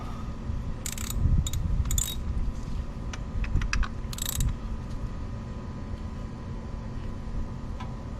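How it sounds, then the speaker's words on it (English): A torque wrench turns a socket, set for 11 newton meters. Bursts of close, ratcheting clicks are heard over a steady background hum. "got the torque wrench set up, and we're looking for 11 Newton meters"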